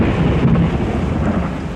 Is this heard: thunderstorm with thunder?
yes